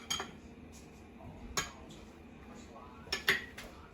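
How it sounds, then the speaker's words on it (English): Bowls are set down in a kitchen sink during preparation of mee krop, with a few sharp clinks and clatters spread out and fairly close, over a quiet background hum. "you can put these bowls in the sink"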